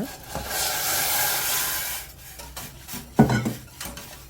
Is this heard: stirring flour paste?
yes